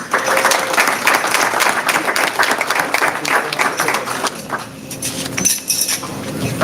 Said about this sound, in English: Let's give our students another big round of applause.